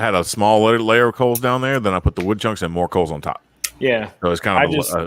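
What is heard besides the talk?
No distinct noise like a dog, phone or traffic.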